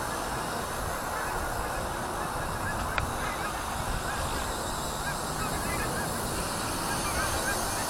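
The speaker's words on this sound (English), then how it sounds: "Here comes a bunch of geese" A flock of geese honks steadily over strong, gusty wind noise outdoors, the calls continuous and moderately near throughout.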